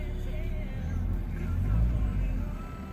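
A car engine with a thermostatic carburetor rumbles low and swells briefly as the gas pedal is pressed, then settles, while someone talks close by.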